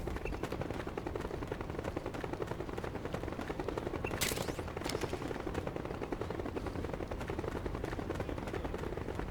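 Rapid, continuous gunfire in the Metal Gear Solid 4 video game, a dense clatter of shots running throughout with a brief sharper burst partway through, loud and without any talk.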